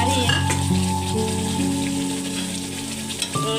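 Roast meat with salt and green chilies fries and is stirred in a pan, giving a loud, close, steady sizzle with a few stirring knocks over a sustained tonal background sound.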